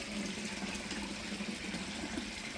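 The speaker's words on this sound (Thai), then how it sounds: "น้ำตกตรงนี้ก็จะทำจากปั๊มโยก เก่านะครับ ก็จะเป็นวินเทจแบบหนึ่งนะครับ" Water pouring steadily from an old vintage hand-pump waterfall in a home garden, a continuous moderate splash and trickle with no talk.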